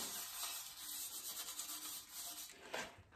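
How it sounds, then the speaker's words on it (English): A copper pot is scrubbed by hand, giving a soft, quiet, continuous rubbing and scouring sound with a brief louder stroke near the end and no talking. "I'm still having to scrub"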